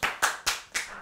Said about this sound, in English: No, stop clapping